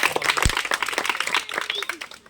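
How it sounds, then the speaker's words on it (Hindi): An audience at a village street magic show claps in a brief burst of scattered hand claps, while someone talks over it. "ताली लगाओ देखो"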